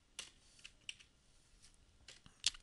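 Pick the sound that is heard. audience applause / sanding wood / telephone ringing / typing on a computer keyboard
typing on a computer keyboard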